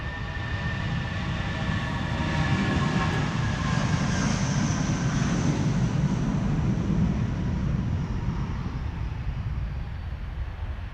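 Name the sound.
Airbus A319 jet, SAS flight to Copenhagen, departing Schiphol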